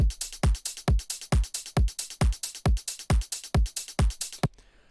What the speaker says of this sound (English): so the click of the kick comes through